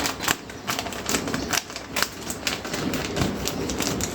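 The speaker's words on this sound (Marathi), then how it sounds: "हे जे आपलं पॅकेट आहे ना ते अशा प्रकारे आपल्याला कापून घ्यायचं" Scissors snip through a crinkly Doritos chip packet in a quick series of close, sharp cuts and plastic crackles, with no talk.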